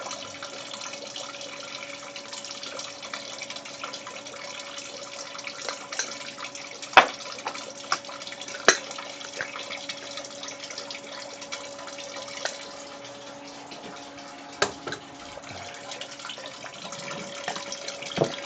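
Steady running water from a tap filling a container with sparge water for beer brewing, a constant rushing hiss with a few sharp clinks and knocks over it.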